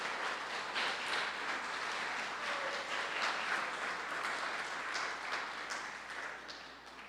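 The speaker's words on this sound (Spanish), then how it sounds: "Si le va a aplaudir, apláudele fuerte a Cristo." Church congregation applauding for Christ during a sermon, a sustained wash of many hands clapping that holds steady and moderately loud before tapering slightly at the end.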